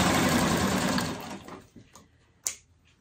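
Sewing machine stitching a fabric corner, a fast, steady mechanical whir close up that stops after about a second and a half, followed by quiet handling clicks and a sharp tap.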